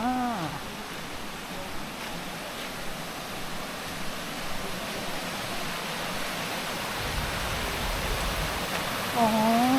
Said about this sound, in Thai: ตรงนี้มีน้ำตกลงมา